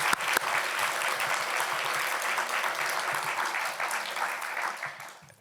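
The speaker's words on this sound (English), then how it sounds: "So please, round of applause for yourself." A conference audience applauds at closing remarks, a steady, even wash of clapping from a sizable crowd that holds for several seconds and fades slightly at the end.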